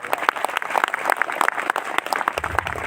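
An audience at a religious discourse claps in a dense, steady burst of applause that fills the room for a few seconds.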